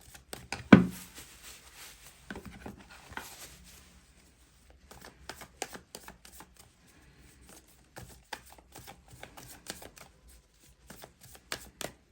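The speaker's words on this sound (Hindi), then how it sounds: "सबसे पहले मैं 4 कार्ड्स यहाँ से निकालूंगी गाइज, ऑरेकल कार्ड से 4 कार्ड्स निकालूंगी।" Oracle cards shuffled and drawn by hand: a brief riffle burst near the start, then scattered soft flicks, slides and taps of cards, close and quiet with pauses between.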